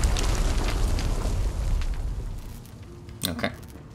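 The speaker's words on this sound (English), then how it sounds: "What the hell just happened? An explosion?" A loud explosion in the video game Infamous Second Son rumbles with heavy, dense low-end debris that gradually fades over a few seconds, followed by a brief sharp burst near the end.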